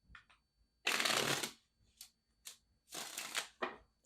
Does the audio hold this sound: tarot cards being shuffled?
yes